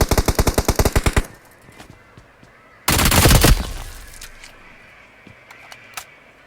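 Video game gunfire rattles in a rapid automatic burst, then after a pause a second heavy burst hits, followed by scattered faint clicks and pops.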